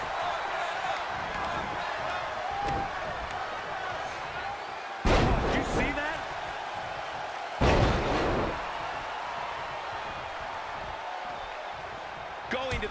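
Two loud slams of an elbow drop onto a wrestling ring in WWE 2K20, each a sharp heavy impact with a short burst of crowd reaction, standing out over a steady arena crowd murmur and a commentator talking.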